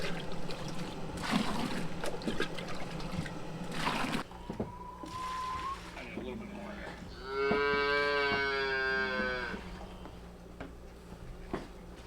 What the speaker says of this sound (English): I enjoy hearing the greenhouse is full of moos.